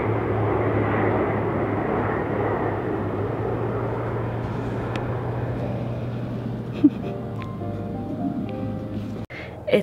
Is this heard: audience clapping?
no